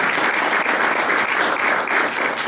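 A full lecture audience claps steadily for the department's professors, a dense, even wash of many hands at constant loudness throughout, with no voices over it.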